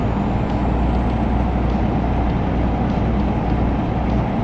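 Steady, loud truck engine drone in a trucking video game, a continuous low rumble with road noise that holds evenly throughout, heard alone without talk.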